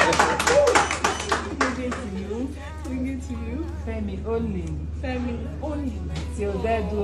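At a civil wedding ceremony, a short burst of crisp hand clapping opens the moment, then quickly gives way to people talking.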